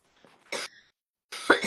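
Two separate coughs from one person, each a short harsh burst, the second slightly longer and louder, with a brief pause between them and no speech.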